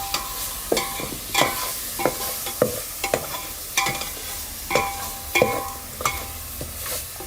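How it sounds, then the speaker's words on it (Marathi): Ground Kolhapuri masala sautéed in hot oil over a wood-fired chulha: a steady sizzle broken by regular scraping strokes of a spoon against the pan, about a dozen, close and clear with no talk. "चांगलाच आपल्याला मसाला आहे ना असं परतून घ्यायचं"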